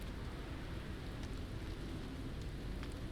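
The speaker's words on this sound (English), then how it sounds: "Dang, there's another storm." In the No Man's Sky video game, a quiet stormy downpour keeps up a constant rain hiss over a dull low rumble, with a few sharper drop ticks and no voices.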